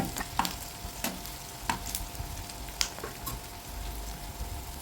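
Onions fry in a pan for a fish curry with tamarind pickle, making a steady sizzle marked by occasional clinks and scrapes of stirring, close-up with no talk.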